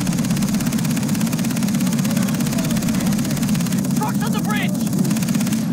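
Helicopter in Far Cry 3, a steady loud rotor and engine drone that runs throughout, with brief flutters and chirps partway through and a voice speaking over it.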